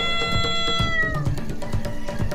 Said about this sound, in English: The cat screams loudly,